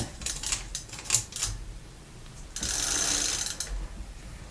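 Chain going back onto an old bike with a one-piece bottom bracket crank, heard as brief mechanical clicks and ratcheting rattles, then a longer steady metallic whirr as the drivetrain turns, close and alone.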